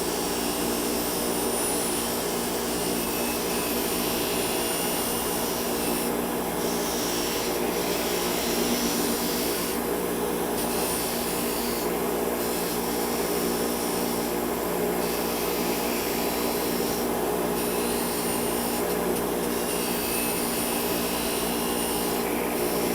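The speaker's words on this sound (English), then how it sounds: "we're going to demonstrate one side using the wire wheel to clean it up." A wire wheel scrubs the weld on an air conditioning hose assembly, giving a steady, loud, whining grind with a few short pulses of harsher contact, and no voices.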